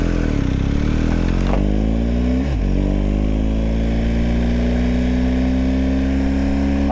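A BMW R1250GS motorcycle engine on the Nordschleife roars loud and close throughout, climbing steadily in pitch as it revs hard under acceleration with a small dip partway through, steady heavy drone with no voices.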